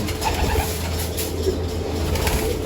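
Breeder pigeons in a loft colony give soft, low cooing over steady background hum, near and continuous, with no one speaking.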